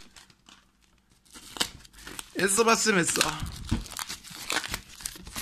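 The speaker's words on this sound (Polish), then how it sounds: "Muszę to wszystko jednak oderwać rękoma." Paper packaging around a DVD parcel being torn open by hand, with loud crinkling and ripping bursts in the middle and end, close up, while someone talks over it.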